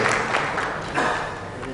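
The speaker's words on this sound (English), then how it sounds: "A big round of applause for our guests" An audience at the inaugural session of a smart city conference applauds guests welcomed onto the stage, a continuous wash of many hands clapping at a steady level with a brief swell partway through.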